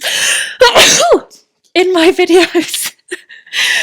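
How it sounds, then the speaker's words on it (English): A woman sneezes during an intermediate power yoga class, with a sharp burst of breath followed by a brief breathy sound and then talking in the foreground. "Oh, I'm going to sneeze."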